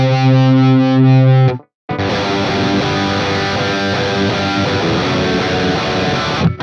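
Heavily distorted electric guitar run through a Quad Cortex with gain at 8, chugging a sustained riff, then a brief dead stop before a thick, saturated strummed passage returns, loud and close with no talking.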